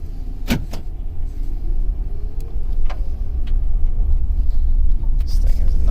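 2007 Mercury Grand Marquis backing up, a low, steady engine rumble close by, with a few sharp clicks and knocks and some talking over it.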